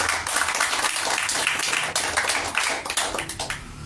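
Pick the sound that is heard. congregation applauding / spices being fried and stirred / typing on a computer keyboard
congregation applauding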